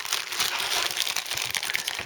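A plastic bag holding Special Hobby Gloster Meteor Mk.4 model kit parts crinkles and rustles as it is handled up close, a continuous crackling sound for about two seconds.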